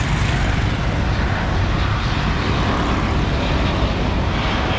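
An airplane near an airport, its engine giving off a loud, steady, broadband roar that holds evenly for the whole stretch, with no voices over it.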